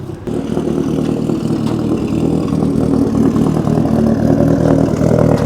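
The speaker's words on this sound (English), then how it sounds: "I heard a lumpy idle." Rally car engine with a lumpy idle at a venue in Italy, a loud, close, continuous low rumble that holds steady with a slightly uneven pulse throughout.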